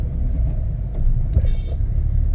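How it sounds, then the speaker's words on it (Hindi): A car moves slowly through heavy monsoon rain on a flooded road on the way to Kolhapur, a steady low engine and road rumble with rain noise inside the cabin, no speech. "मैं बहुत स्लो गाड़ी चला रही हूँ"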